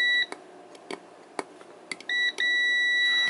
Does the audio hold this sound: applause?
no